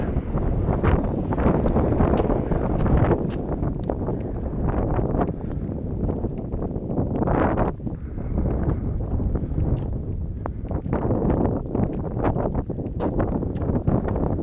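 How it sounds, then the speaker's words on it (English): Strong cold wind outdoors in a neighborhood buffets the microphone continuously, a loud low roaring rumble with gusty surges and occasional crackling throughout. "I'm not even gonna take my full hour today because it's so cold and windy."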